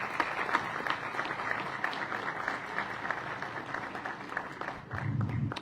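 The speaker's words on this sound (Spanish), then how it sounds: "Un fuerte aplauso, por favor, para nuestro alcalde." An audience at a public event in Cuenca, Ecuador applauds the mayor with sustained, dense clapping that carries steadily for several seconds before tapering.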